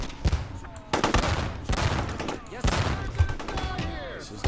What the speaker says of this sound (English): a lot of incoming fire is doing a lot of damage